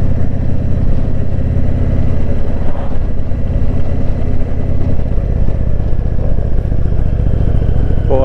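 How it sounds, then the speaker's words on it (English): Indian motorcycle engine, from a Challenger or Scout cruiser, droning steadily while riding on an open road at around 30 mph, loud and close with constant wind rush and no talking. "I sure love getting out and riding my bike on this kind of weather"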